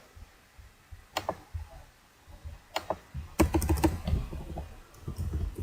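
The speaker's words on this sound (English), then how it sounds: "let's just type it down here" Short bursts of typing on a computer keyboard, sparse clicks at first, then a denser run of keystrokes, close and fairly quiet with no talking.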